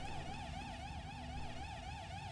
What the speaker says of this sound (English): there's an alarm siren going off